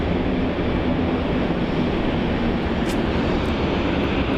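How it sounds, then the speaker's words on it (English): A heavy Boeing 787 Dreamliner taking off at Melbourne Airport: a loud, steady roar of jet engine noise that fills the whole clip, broad and rushing, with no speech. "Must be a heavy Dreamliner."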